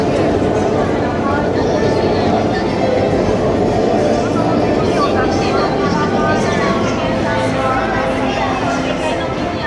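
A train runs at Yurakucho station in Tokyo, producing a loud, steady rumble that fills the whole stretch with unbroken rail noise.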